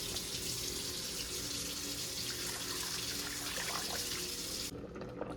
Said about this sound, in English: Then it says to add enough water to cover the potatoes.